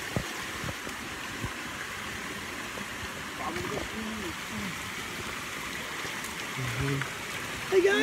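Stream water flows near falls in Pansol, Laguna, a steady close wash of rushing water with voices talking over it.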